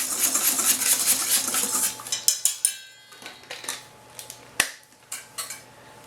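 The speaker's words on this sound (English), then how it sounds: "I'm going to give that a quick whisk" Quick metal whisking of flour, salt and baking powder in a bowl, a brisk run of clinking strokes that thins into scattered taps and scrapes, close and clear with no talk.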